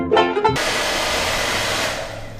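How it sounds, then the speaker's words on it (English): A blow dryer heats and loosens the griptape on a Onewheel foot pad, running as a loud, steady blast of broadband air noise for about two seconds after a brief, wavering start. "keep the blow dryer on the front edge of it as you peel it back"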